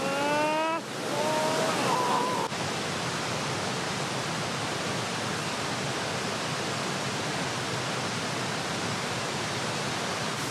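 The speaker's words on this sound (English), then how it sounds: "Oh, you can feel the mist from the waterfall." Waterfall in the remote mountains of northern Vietnam, a loud steady broadband roar of falling water heard close up, with a few brief whistling tones at the start before the rushing noise continues unbroken.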